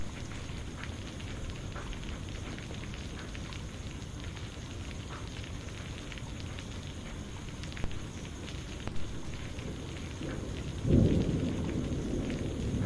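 Rain falls steadily on a stormy night, a constant dense hiss with faint distant rumbles of thunder and a louder low rumble near the end.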